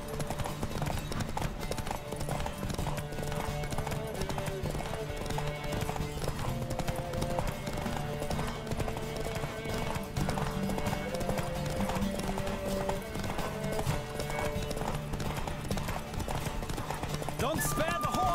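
A horse gallops in The Witcher 3 video game, rhythmic hoofbeats pounding steadily for the whole stretch under game music, with occasional whinnies and voices speaking over it.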